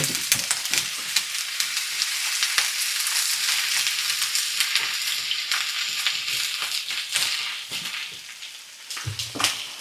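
Zucchini, onions and garlic fry in a hot pan with a steady, loud broadband sizzle, punctuated by scraping and clattering stirs and a few sharper knocks near the end.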